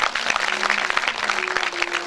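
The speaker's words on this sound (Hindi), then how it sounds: "एक बार जोरदार ताली बजा दो ना।" An audience at a Hindi devotional satsang discourse claps together, a dense, steady burst of applause that fills the short stretch with no speech over it.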